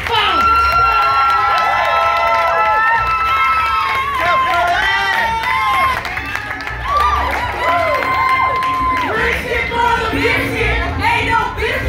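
A crowd at a team poetry slam final at an arts festival in Utah cheers loudly, with whoops, excited shouts and clapping continuing throughout.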